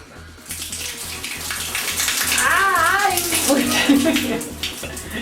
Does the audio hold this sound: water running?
yes